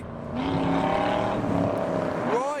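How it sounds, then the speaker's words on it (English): A Chevrolet Z28 Camaro sweeps past on a wide road, its engine note rising and then falling in pitch as it nears and moves away, loud against steady background rumble. "next up we have the Z28 Camaro"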